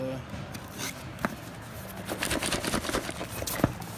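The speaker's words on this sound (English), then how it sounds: "Can you hear that? That's what money sounds like." Sterling silver coins rattle and clink inside a box as it is shaken in short bursts, fairly close and moderately loud.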